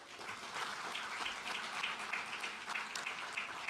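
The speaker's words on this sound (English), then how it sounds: "Big round of applause for Firefly." Faint, distant audience applause at a space program announcement, a steady patter of many hands clapping throughout.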